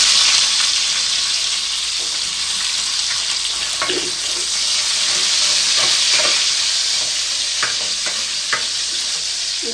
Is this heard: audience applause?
no